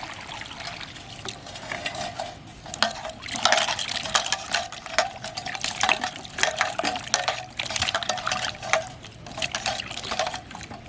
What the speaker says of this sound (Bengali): এখন এটাকে তুলে খুব ভালো করে জল দিয়ে ধুয়ে নেব।